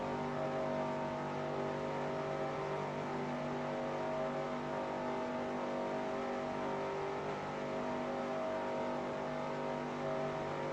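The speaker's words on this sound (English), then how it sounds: "My engine sounds bogged down compared to theirs." Race car engine droning steadily at high revs through a lap, a continuous harmonic roar that holds level with only slight rises and dips, close and loud with no talk over it.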